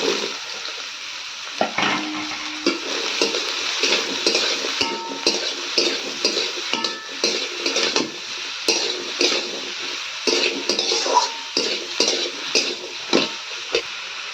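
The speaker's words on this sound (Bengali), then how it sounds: "এবার এর মধ্যে কেটে রাখা লাউটা দিয়ে দেব।" Chopped bottle gourd sizzles in a hot pan while a spatula stirs and scrapes against the metal, with repeated clattering strokes over a steady frying hiss.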